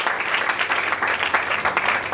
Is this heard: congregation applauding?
yes